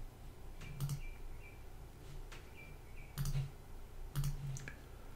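Mouse clicks on software buttons, a few sharp close clicks spaced over several seconds against a faint steady background hum.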